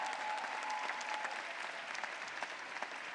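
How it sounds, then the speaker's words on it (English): A large audience at a 2017 graduate school commencement ceremony claps for the faculty, a dense, even wash of applause heard from a distance that keeps up without a break throughout. "Yes, they deserve a round of applause."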